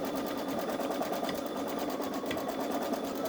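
A Baby Lock Solaris Vision embroidery machine stitches a design onto stabilizer, giving a steady, close, continuous mechanical whir with an even rapid needle rhythm throughout.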